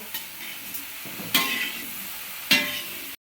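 Dal cooks in a pot on the stove with a constant sizzle and a few clear spoon scrapes from stirring, with no talk.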